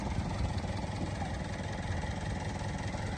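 A used mid-size four-wheel car's engine idles with a steady, even rumble from close by, unbroken for the whole stretch, with no talk over it.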